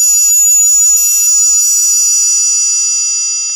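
A metal triangle struck on its bottom side rings out with a bright, sustained shimmering tone, several quick strikes early on then a long fading ring, loud and alone.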